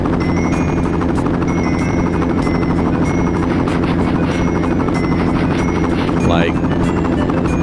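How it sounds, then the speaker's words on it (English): Helicopter noise in the MS-DOS game Wolf: a steady, loud rotor drone that holds for the whole stretch, with a brief rising electronic tone near the end. "What is up with the helicopter noise?"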